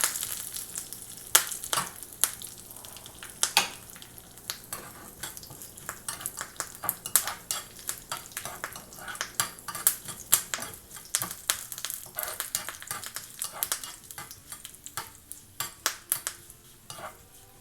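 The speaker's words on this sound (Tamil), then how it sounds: "இது எல்லாமே நல்லா பொரியட்டும்." Dried red chilies and curry leaves fry in hot oil for a cabbage dal curry, giving steady crackling and sizzling with frequent sharp pops and light scraping as a spoon stirs the pan.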